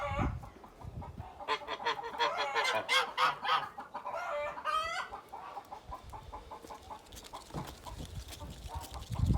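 Geese honking loudly on a farm, with chickens clucking nearby; repeated overlapping honks come in bursts close to the listener, against a busy barnyard background.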